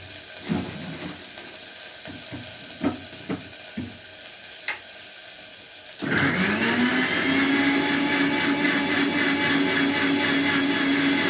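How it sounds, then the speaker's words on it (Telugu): A kitchen mixer grinder whirs loudly and steadily as it grinds tomatoes, ginger and garlic for tomato rice, starting abruptly after a few quiet clicks and knocks and running without pause to the end. "ఇప్పుడు అల్లము, తెల్లగడ్డ కూడా మిక్సీలో వేసేస్తానండి. మిక్సీ పడతాను"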